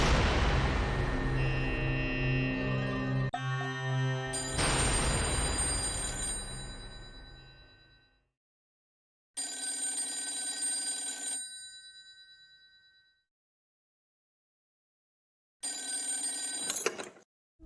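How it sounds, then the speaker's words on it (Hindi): A telephone rings loudly and close, a long electric bell ring followed by shorter repeated rings separated by silent gaps, with no voices. "सूर्य कमल भैया की सगी मौसी का फोन है"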